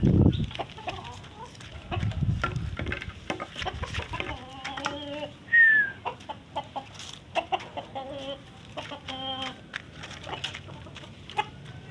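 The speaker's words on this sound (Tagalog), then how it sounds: "Manok dito." Chickens cluck repeatedly nearby, a run of short throaty calls with one higher squawk, over faint background rustle and occasional voices.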